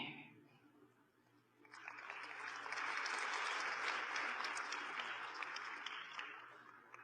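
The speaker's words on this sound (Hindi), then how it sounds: "आपने अपने लिए ताली बजाई" An audience at a talk bursts into applause after a quiet pause, the clapping swelling quickly and holding steady for several seconds before easing slightly.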